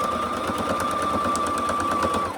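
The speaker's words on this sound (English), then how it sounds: "you're going to sew straight across" A sewing machine runs steadily for a couple of seconds, stitching straight quilting lines across a padded tablet zipper bag, with a constant motor whine and rapid even needle clatter, close and loud.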